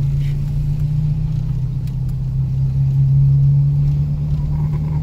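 A car engine hums steadily with a low, constant drone as the car drives in to park near a lakeside beach. It is moderately close, with faint sounds in the background.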